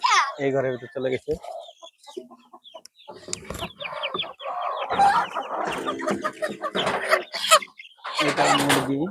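Desi chickens cluck and call on a cattle and goat farm, a few bursts of hen vocalizations spread through the clip, fairly close, with people talking nearby.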